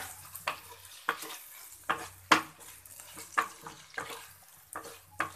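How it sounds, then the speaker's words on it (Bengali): Potatoes frying in a pan being stirred with a utensil, a series of scraping, clattering strokes roughly every half second over a faint sizzle, close and fairly quiet. "এরপর আমি আলুটা খুব সুন্দরভাবে নেড়ে দেবো"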